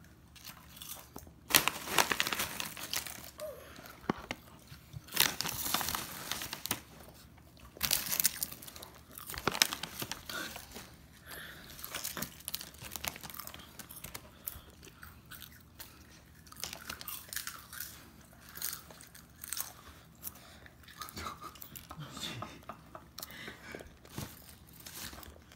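A child eats crunchy food, with repeated crisp bites and chewing crunches close up, coming in irregular bursts over soft background noise.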